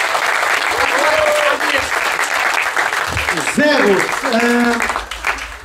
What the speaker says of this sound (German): Applaus für euch selber, Mann.